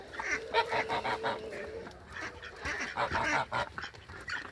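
Geese and ducks honking and quacking in a farmyard on the way to their pools, a run of repeated calls fairly close, with no talk.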